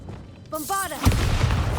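A Bombarda spell in Hogwarts Legacy fires with a rising whoosh, then bursts into a loud, full-bodied explosion that rumbles on to the end.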